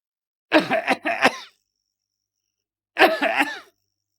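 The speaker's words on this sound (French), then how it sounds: "Et vous toussez." Two separate fits of human coughing, each a quick cluster of three or four harsh coughs, close and clear against silence.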